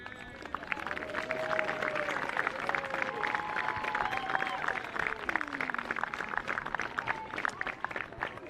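Crowd applauding a winning girls' school football team at a national secondary schools tournament final, steady clapping and cheering outdoors with whistling tones and voices mixed in.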